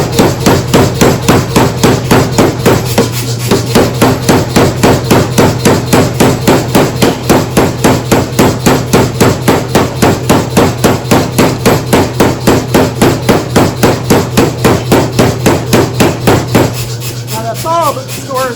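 A blacksmith pounds a bar of hot metal with a hammer, the strikes landing close and loud in a steady, fast rhythm that continues almost without pause for the whole stretch, with a brief change of pace near the end.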